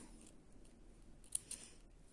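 Small scissors snip thread during Turkish needle lace work. There are one or two faint, sharp clicks close by in an otherwise quiet room.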